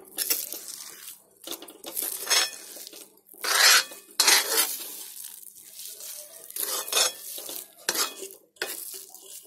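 A spoon stirs and presses a thick lentil and coconut filling for Maharashtrian dal-coconut vade in a pan, giving repeated scraping and mashing strokes in uneven bursts, close and moderately loud, with no talking.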